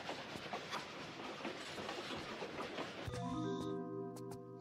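A train rolling along in a Tomb Raider custom level, a steady rumbling clatter of rail noise that continues throughout and swells near the end as bright metallic tones ring over it.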